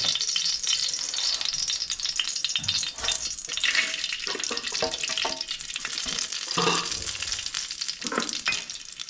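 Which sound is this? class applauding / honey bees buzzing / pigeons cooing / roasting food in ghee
roasting food in ghee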